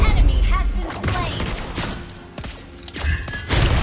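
Sniper shots from the hero Lesley in the mobile game Mobile Legends, a few sharp cracks and booms among busy battle effects and game sounds, with faint voice lines.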